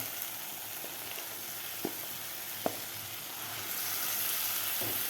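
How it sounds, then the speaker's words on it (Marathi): Mashed potato sautéing with masala in a pan, a faint, steady sizzle with a couple of sharp spoon taps, growing slightly louder toward the end, no talking. "बटाटासुद्धा आपल्याला एक ते दोन मिनिट परतून घ्यायचा आहे"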